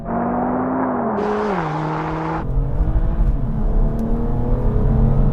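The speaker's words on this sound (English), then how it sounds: "Oh, the launch on this is brutal. The RS3 got off the line well as well." A Mercedes-AMG and an Audi RS3 launch hard off the line in a drag race, engines roaring loudly and revving up through gear changes, close and sustained with no talking.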